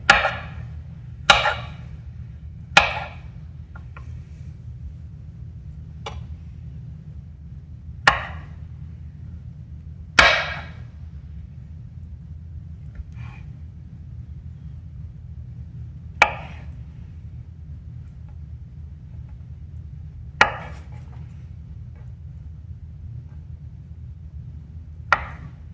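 A knife slicing salmon sushi on a cutting board, with about ten sharp, separate chops spaced irregularly over a low, quiet background hum.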